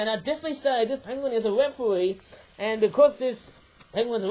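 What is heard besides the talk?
No everyday noise stands out behind the speech.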